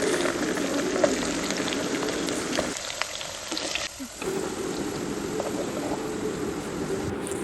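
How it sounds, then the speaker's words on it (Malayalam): Chopped potato and carrot fry in hot oil with a steady, close crackling sizzle that dips briefly, then resumes at full strength. "എണ്ണ ഒഴിച്ച് അതിലേക്ക് ഉരുളക്കിഴങ്ങ് അരിഞ്ഞതും ക്യാരറ്റ് അരിഞ്ഞതും ഇട്ട് വറുത്ത് കോരാം"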